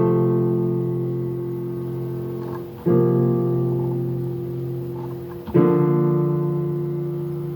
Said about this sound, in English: just so you can hear it on a normal piano